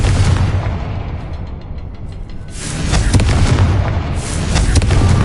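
A Confringo blasting spell in Hogwarts Legacy erupts into a loud, rumbling explosion, with a sustained roar that swells with crackling bursts.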